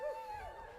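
At a high school graduation ceremony, a crowd imitates a wolf howl, a short rising and falling wavering cry from a distance in a large hall.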